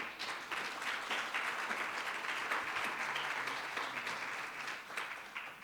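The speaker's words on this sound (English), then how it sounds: "You can applaud them" An audience at a diplomatic celebration of the Abraham Accords, honouring guests from Bahrain, claps in a steady, moderately loud round of applause that holds evenly throughout.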